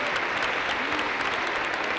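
An audience at an awards ceremony claps steadily throughout, a close, dense and even burst of applause with no break.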